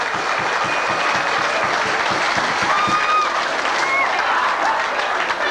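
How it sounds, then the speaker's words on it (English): An outdoor crowd at a 10K race during a Columbus Day weekend festival applauds the athletes with sustained, dense clapping. Faint tonal whistles and cheers rise briefly over the crowd, and there is no speech. "Give the athletes a great round of applause."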